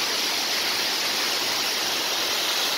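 The Kazdon waterfall pours from rock and drops about 200 metres, making a steady, dense, loud roar of falling water that fills the whole moment without pause or voices.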